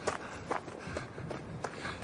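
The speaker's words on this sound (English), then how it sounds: "This is the sound of Harold Fry running." Radio drama sound effect of Harold Fry running: quick, close footfalls in an even rhythm across about two seconds, with no one talking over them.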